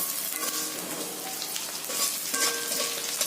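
Ginger paste sizzles steadily in hot frying oil, a bright continuous crackle with a few sharper spits and light stirring, close and moderately quiet with no talk.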